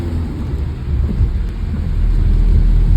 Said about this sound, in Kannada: ಮಳೆ ಮಾತ್ರ ಬಿಟ್ಟೇ ಇಲ್ಲ, ಬಿಟ್ಟು ಬಿಡದೆ ಕಾಡ್ತಾ ಇದೆ ನಮ್ಮನ್ನ ನಿನ್ನೆ ಬೆಳಗ್ಗೆಯಿಂದ.